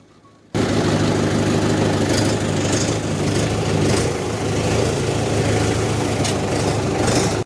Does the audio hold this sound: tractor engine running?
yes